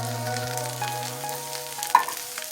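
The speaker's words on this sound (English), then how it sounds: "next I'm going to add my tomato sauce." A thick homemade chili for chili dogs sizzles and fries steadily in a pan as tomato sauce goes in, with a brief clink of a spoon or can against the pan near the end.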